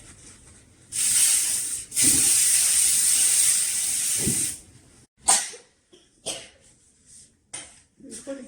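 A spray can greases a baking tray for peanut butter biscuits in two loud, close hissing bursts, followed by short knocks and handling sounds as the tray is set down.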